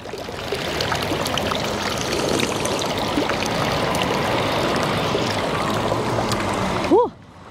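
A public drinking fountain in Zurich's Old Town pours a steady stream of water, splashing continuously at close range before stopping abruptly near the end.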